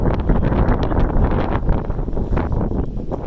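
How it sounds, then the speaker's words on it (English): Wind buffeting a microphone outdoors during deer butchering, a loud, continuous low rumble and roar with gusty fluctuations that dominates throughout, with no speech. "Hope you can hear all right with this wind."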